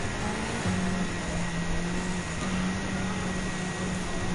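A Ford Focus Group B rally car engine in Gran Turismo 7 drones continuously at a steady pitch, a loud close-up racing hum with faint tonal shifts.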